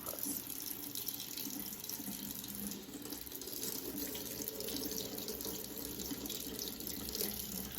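Tap water runs steadily into a sink while a makeup brush stained with purple eyeshadow is washed, a close, continuous splashing rush with no voices.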